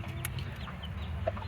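Laying hens, broody production birds, clucking softly in a flock, a few close short clucks over a low steady background hum.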